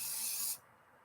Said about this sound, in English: some glue here, some multi-purpose spray adhesive